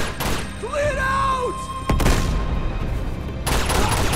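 Gunfire and voices fill a firefight in Uncharted 2, then a grenade explodes with a sudden broad boom, followed by a rumbling wash of debris and another burst of noise near the end.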